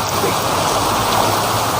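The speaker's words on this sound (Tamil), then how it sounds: "இப்போ தெரியுதுங்களா? செம்ம மழை இன்றைக்கி." Heavy rain pours steadily and close by, a dense, even wash of falling water that holds without a break for the whole short stretch, with no voices heard.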